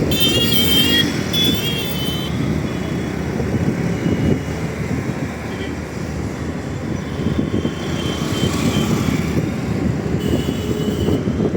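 Busy road traffic in Delhi, with a continuous dense rumble of passing vehicles that stays loud and steady throughout. No voices are heard.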